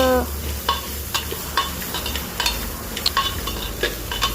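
A bottle gourd mixture is stirred in a hot pan with a spoon, giving repeated scraping clicks and taps over a steady low sizzle, close and fairly loud with no talking.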